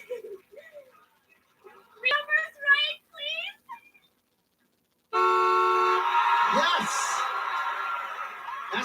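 A long, loud car horn blast comes in as a sound effect on a live hidden-camera game show. It follows a stretch of excited speech and holds steady for several seconds.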